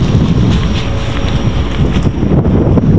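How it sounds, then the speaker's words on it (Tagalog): Strong wind buffets the microphone in a steady, loud rumble, with no voices. "Medyo malakas ang hangin ngayon mga kamamay."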